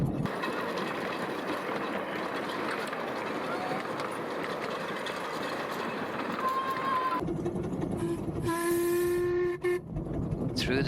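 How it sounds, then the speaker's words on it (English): A Fairbourne Railway 15-inch gauge miniature train runs with a steady, loud rumble and clatter heard from on board. The sound shifts as it enters a tunnel, and a sharp whistle sounds partway through. "Through the tunnel from on board the train."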